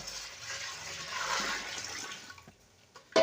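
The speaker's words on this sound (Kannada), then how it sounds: "ಇದಕ್ಕೆ ನಾವು ಬೇಕಾದ ಪ್ರಮಾಣದಲ್ಲಿ ನೀರು ಹಾಕಬೇಕು" Water is poured into wheat flour in a bowl for a thin batter, a soft steady splashing and gurgle that fades away near the end.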